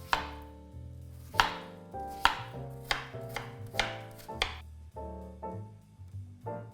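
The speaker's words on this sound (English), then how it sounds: "very finely chop them" A knife finely chops peeled apples on a cutting board, a quick series of crisp close thuds in an uneven rhythm, each with a short ringing decay, no voices.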